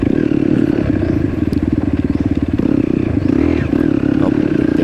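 A motorcycle on a rough road trip toward Libacao rattles over uneven ground, its engine droning loud and close with a choppy pulsing rhythm and clattering bumps.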